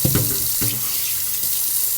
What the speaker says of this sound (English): I'm going to get my strainer and rinse my eggs off really good because I cooked them in that grease.